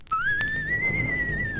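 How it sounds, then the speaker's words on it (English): A single sharp, sustained whistle, high and clear, held steady for over a second with a slight rise and fall in pitch. "then gave a sharp whistle"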